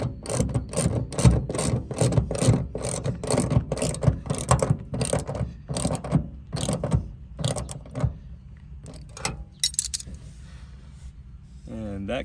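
A ratchet clicks in quick, rapid bursts while tightening bolts on an underseat weapon storage locker in a Ford F-150, the strokes slowing and thinning out toward the end, with a voice heard briefly.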